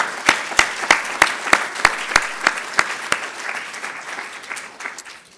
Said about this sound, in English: Let's give another round of applause to all of our presenters.